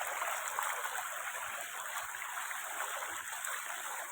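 Floodwater rushing across a waterlogged village road, a steady close hiss of flowing and gurgling water filling the whole moment without pause.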